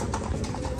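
Horse hooves clip-clop steadily on a street during a horse-drawn carriage ride in Colmar, France, a continuous rhythmic clatter heard close up with no talking.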